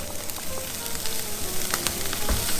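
Steady, crackling sizzle of a beef burger patty searing in a very hot pan, close and continuous, with scattered sharper pops.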